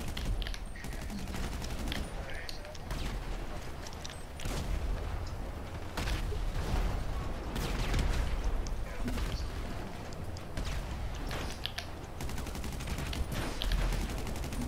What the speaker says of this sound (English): There is a lot of explosions.